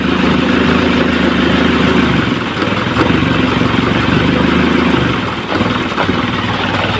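A close, loud Isuzu 4HL1 diesel engine runs roughly with a constant rumbling idle. It stumbles and dips unevenly every few seconds.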